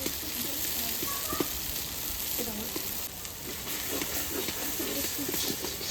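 Kashmiri chili powder added to spices frying in oil gives a loud, steady, hissing sizzle that runs unbroken, with a faint voice murmuring in the background.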